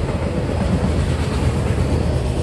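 A long Union Pacific freight train rolls past close by, a loud, continuous rumble and roar of wheels on rail with faint rhythmic clatter, filling the whole stretch.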